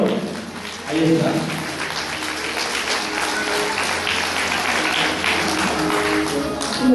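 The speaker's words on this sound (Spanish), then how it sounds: "Vamos a recibirla y a escucharla con unos fuertes aplausos," Loud, sustained audience applause at a municipal tribute to senior citizens in Paramonga, swelling after a brief opening and continuing throughout, with some voices audible underneath.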